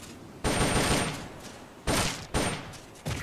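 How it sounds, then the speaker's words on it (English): Bursts of rapid automatic fire from an M16 assault rifle in the video game Metal Gear Solid Peace Walker: three loud, sharp volleys, the first about a second long, then two shorter ones, with a clipped fourth at the end. "The M16's a standard assault rifle,"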